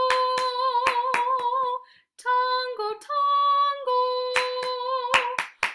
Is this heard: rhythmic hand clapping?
yes